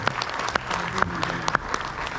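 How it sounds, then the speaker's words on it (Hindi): An audience at a state union convention claps steadily to welcome a guest, a dense, fairly loud round of applause with a few sharp, distinct claps standing out near the front. "तो उनका एक बार जोरदार तालियों से स्वागत किया जाए।"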